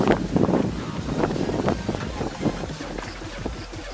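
Strong wind gusting across an open mountain viewpoint near a waterfall in Thailand, a steady rumbling roar with buffeting on the microphone throughout.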